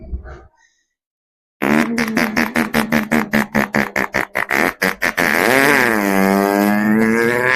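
A voice imitates a Yamaha RX100 two-stroke motorcycle: a rapid series of sputtering revs that build into a loud, sustained buzzing engine drone, close and alone.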